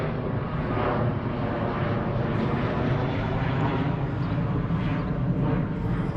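A fixed-wing airplane passes near an airport in Oaxaca, its engine a loud, steady, broad roar that holds constant throughout with no talking.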